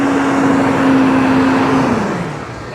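A water truck drives past at a Jeep beach event in Daytona, a loud steady engine rumble with a droning tone that fades away toward the end.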